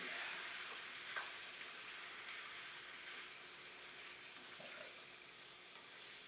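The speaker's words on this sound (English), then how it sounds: "Turn this thing down, it's still sizzling." Quiet, steady sizzling crackles of pasta with prosciutto in a pan on and on, with a few faint clinks and scrapes here and there.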